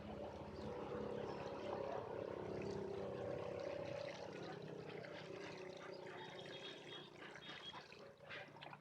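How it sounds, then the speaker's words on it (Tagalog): Water poured over freshly planted kangkong (water spinach) cuttings in a container with drainage holes, a continuous soft rushing trickle that eases slightly toward the end. "At pagkatapos nating ibaon ang mga cuttings ay tutubigan natin siya."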